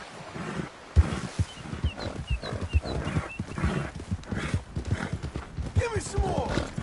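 Horse hooves clip-clopping in Red Dead Redemption 2, a steady rhythmic clatter of hoofbeats close by, mixed with other game sounds and someone talking over it.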